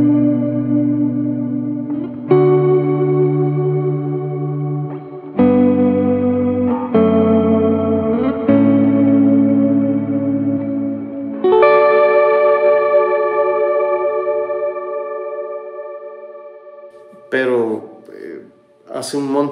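Electric guitar played through a Mercury 7 pedal set to a vibrato modulation mode, with sustained chords and single notes that shimmer and waver, ending in swooping pitch bends, loud and alone.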